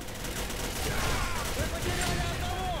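M4A1 rifle gunfire in a video game, a dense rattle of automatic shots mixed with other battlefield gunfire, steady and fairly loud throughout.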